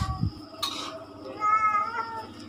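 A cat meows a couple of times nearby, soft drawn-out cries over a quiet room with faint background hum.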